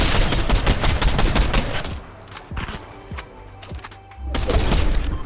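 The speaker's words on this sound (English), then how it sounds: "Now I noticed a lot of gunfire over here by Snobby" Gunfire in Fortnite near Snobby Shores during a solo Zero Build Reload match: rapid bursts of shots and automatic fire up front, then scattered single cracks, and a renewed burst at the end.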